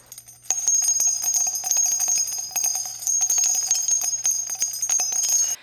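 A rapid jingling bell sound effect rings continuously for several seconds, bright and close, with dense repeated strikes and no voices.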